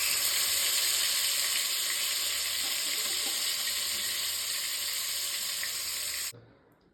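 Chicken leg pieces fry for tandoori chicken on a hot tawa, giving a loud, steady, close sizzle for about six seconds. The sizzle then cuts off abruptly to near quiet.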